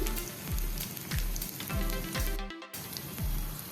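Cheesy corn balls frying in oil in a pan, a continuous loud sizzle with rhythmic low thumps about every half second and a brief gap near the end.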